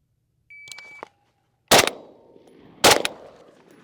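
A Steyr AUG rifle and pistol fire two loud, sharp gunshots about a second apart, each with a short decaying tail, preceded by a brief electronic beep and a click.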